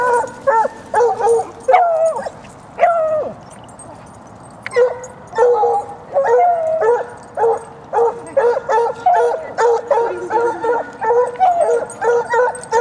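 A dog at a park barks, yips and whimpers in a long excited series of close, loud bursts with brief pauses and no talk over it.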